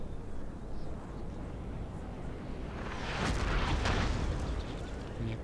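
Gunfire crackles through a battle in the strategy game Napoleon: Total War, a rumbling volley swelling out of steady background noise midway and lingering as a distant roar.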